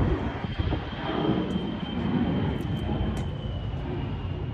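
A low, continuous roar of an airplane passing over near an airport fills the scene, steady and broad, heard outdoors without speech.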